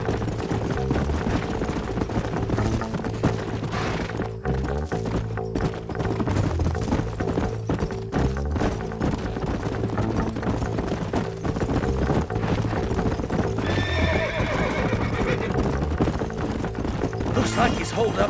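Rapid clopping horse hooves in Red Dead Redemption over a steady music bed, fairly loud and continuous, with a brief higher whinny-like cry near the end.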